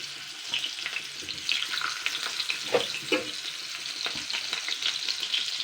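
Potato and papaya pieces frying in oil for chicken pulao, with a dense, close crackling sizzle and occasional scraping stir strokes throughout.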